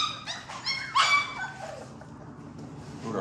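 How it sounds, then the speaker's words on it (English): Several young puppies yip, bark and whimper in quick overlapping bursts, close by and fairly loud, with the busiest cries in the first second and a half before settling into softer whines. "We got five puppies out right now."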